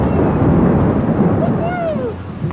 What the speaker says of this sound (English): It's like thunder,